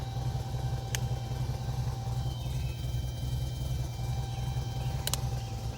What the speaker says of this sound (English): Let's go ahead and hear the exhaust.